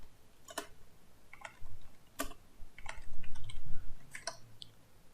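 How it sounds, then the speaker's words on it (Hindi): Keys clatter on a computer keyboard in scattered, irregular taps, close and fairly crisp, with a low background rumble between strokes. "अब आप यहाँ पे कुछ भी टाइप करें"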